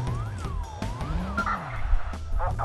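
A car driven in the Watch Dogs video game, a steady engine hum with rising and falling siren-like wails sweeping over it and a brief skid, fairly close and continuous, without talk.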